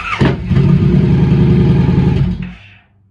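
A Harley-Davidson Sportster S or Pan America motorcycle engine cranks with a brief whine, catches, and runs loud and close with a rough, throbbing rumble for about two seconds before shutting off and fading to silence.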